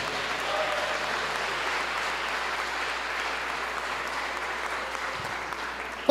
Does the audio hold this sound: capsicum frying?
no